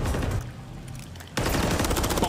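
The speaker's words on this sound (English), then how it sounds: "the rattle of gunfire" Rapid bursts of automatic gunfire from a Call of Duty match at a Call of Duty League Major III tournament, a dense loud rattle that drops to a lull briefly and then resumes at full strength.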